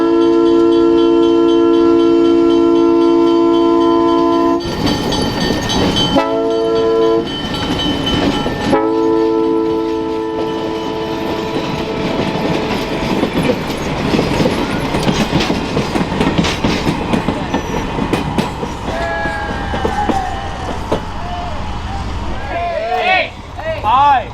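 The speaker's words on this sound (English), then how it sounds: "we would catch the caboose train with the Minnesota Transfer Railway number 200 leading the way" Caboose train led by Minnesota Transfer Railway locomotive number 200 at a railway museum diesel event, opening with a loud sustained multi-note horn blast, then rumbling and rolling clatter of passing cars, with people talking faintly nearby.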